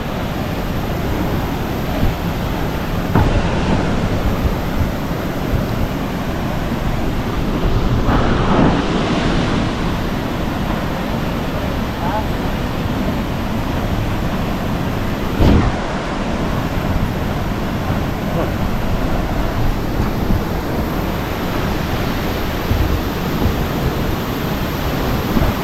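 Flood water at Khlong Lan Waterfall roars as a loud, constant broadband rush, steady and unbroken throughout, with occasional gusts of wind buffeting the microphone.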